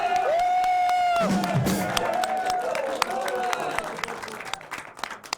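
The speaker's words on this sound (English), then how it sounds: "can we have a round of applause for Anthony Pizarro?" Studio audience applauds and cheers for guest Anthony Pizarro on a late-night talk show, a steady wash of clapping and crowd noise over band music with sustained tones, tapering slightly toward the end.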